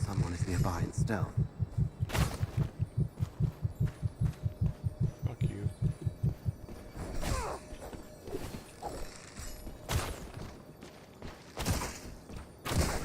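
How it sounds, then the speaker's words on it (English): A video-game heartbeat warning signalling an enemy lurking nearby in stealth: a steady run of deep, rhythmic thumps pulses loudly for about six seconds, then fades, followed by people talking and reacting with shouts. "That's a heartbeat. Someone is nearby in stealth."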